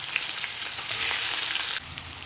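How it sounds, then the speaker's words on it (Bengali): Radish pieces frying in the oil left from frying fish for a Bengali fish curry, a steady dense sizzle with a louder surge midway before settling back down, close and continuous with no talking. "এবার আমি ওই তেলেতে এই মূলোগুলোকে একটু ভেজে নেব"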